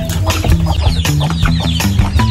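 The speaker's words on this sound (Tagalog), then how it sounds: "Ayan, ang kanyang mga manok." Chickens cluck loudly and close up, several birds overlapping in quick, continuous bursts with no talking.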